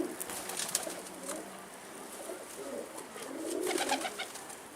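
Pigeons coo in soft, repeated throaty calls at a coop with a stray tumbler pigeon nearby, the calls rising and falling over light rustling and outdoor background noise.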